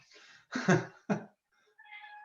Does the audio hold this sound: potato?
no